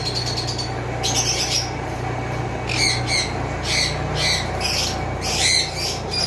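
Repeated harsh squawks from several pet cockatiels and conures in bursts, loud and close, over a constant low hum.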